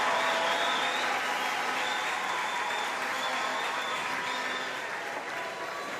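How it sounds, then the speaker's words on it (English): Sustained applause from a crowd at a wheelchair doubles para table tennis match, steady and even clapping after a rally, fairly distant and holding for several seconds. "The coach from Thailand applauding that rally"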